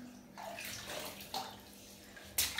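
Running water rinses soapy shampoo off a dog, giving a close, steady splashing wash with brief louder gushes and no talking.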